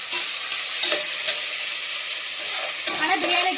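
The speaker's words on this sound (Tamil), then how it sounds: "இந்த வெங்காயம் நல்லா வதங்கட்டும்" Small onions sizzle and crackle loudly in a hot pan for chicken biryani while a utensil stirs and scrapes through them, with no talking.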